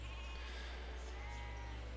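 Sheep bleat in a video game scene by a river, several wavering calls over a constant low hum, moderately loud, with no talking.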